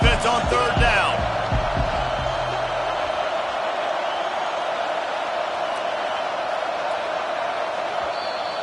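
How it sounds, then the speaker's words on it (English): A stadium crowd in the NCAA 25 college football video game roars on a third-down defensive stand, a steady dense wall of cheering noise that holds loud throughout after a few sharp sounds at the start. "Decibels rising as the crowd gets behind this defense on 3rd down."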